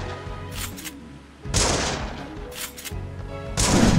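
Sinon's sniper rifle firing in the game Sword Art Online: Fractured Daydream, several loud, sharp booming shots in quick succession with brief ringing tails, heard up close over low background game noise.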